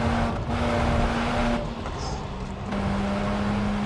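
A Mazda RX-8 rotary engine pulls hard at full throttle, a loud steady engine tone heard from inside with brief dips, likely gear changes, between sustained pulls.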